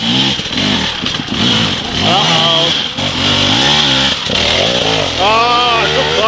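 A motorcycle engine revs and accelerates during riding practice with clutch work, loud and close, its pitch rising and falling over several seconds.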